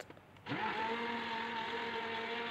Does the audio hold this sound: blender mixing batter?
yes